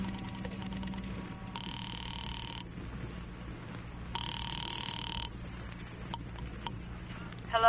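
Old-time radio drama: a telephone rings in short repeated double bursts after a number is dialed from a phone booth, the ringing clear over a low steady hum, with a click at the end as the line is answered.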